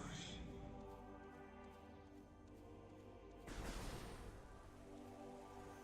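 Steady rain hiss falls in the video game Metroid Prime Remastered, a dense even wash that swells louder and brighter partway through, with no talking over it.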